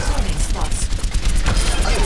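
Rapid bursts of pulse rifle fire from Soldier 76 in the video game Overwatch crackle loudly and continuously over a busy in-game background.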